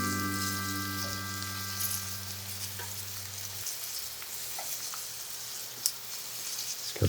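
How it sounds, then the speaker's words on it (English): Meat-free belly slices fry in a pan with a steady close sizzle and crackle, while a low hum fades out partway through. "So you wanna fry each side for like 3 to 4 minutes, and then we'll flip them over."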